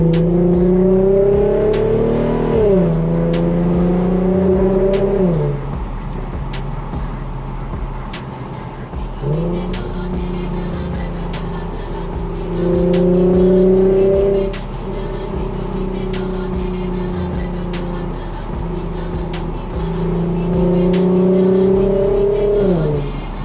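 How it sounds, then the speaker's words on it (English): Engine of an Infiniti Q50 sedan being driven, revving up and shifting through gears in repeated rising sweeps, close and loud with a steady low drone between pulls. "now I'm gonna take a little drive just to make sure everything is working out perfectly"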